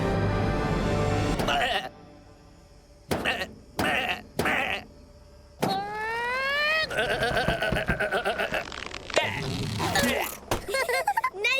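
Cartoon sheep bleat in several short, loud calls separated by pauses, mixed with quick whooshes and bright sliding tones, while a character speaks between the bleats.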